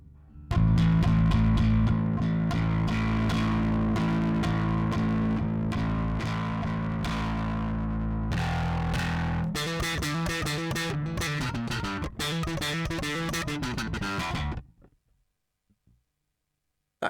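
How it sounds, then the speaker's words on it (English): Bass guitar run through a Two Notes Le Bass preamp with aggressive distortion, loud sustained notes with a harsh buzzing edge, played steadily for about fourteen seconds and then cut off into silence. "So let's dial in a really quite aggressive but bass light distortion"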